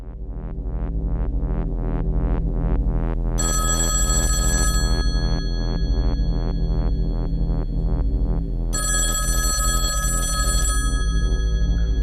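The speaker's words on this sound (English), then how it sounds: "Well, are you going to answer the phone?" Telephone bell ringing: loud, steady electronic ringing with a fast pulsing rhythm and two sustained bursts, heard alone with no voices.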